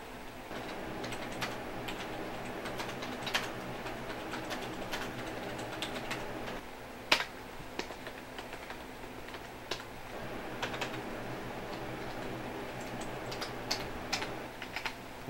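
Typing on a computer keyboard repaired after water damage, quick irregular clicking keystrokes close by, with a few louder isolated key presses over a faint background hum.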